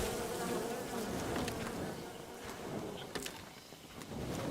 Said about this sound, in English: Ah, bees.